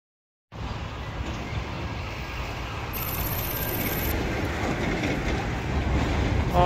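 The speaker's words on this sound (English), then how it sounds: "it's the miniature railway." A miniature railway train at a seaside funfair on Hastings seafront rolls past close by with a steady loud rumble and rattle of wheels on track, a high squeal rising partway through.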